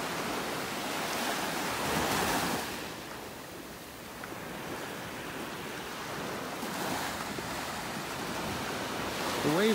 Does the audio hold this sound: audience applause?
no